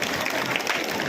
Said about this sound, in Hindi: उनका भी एक बार आप तालियों से उनका स्वागत करें